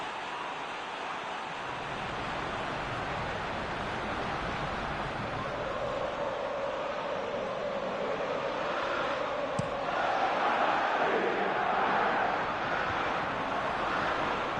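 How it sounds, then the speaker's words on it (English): A large stadium crowd in the PES 20 football video game roars in a steady, broad wash that swells slightly toward the end, with no voices standing out. "the crowd are appreciative of his efforts"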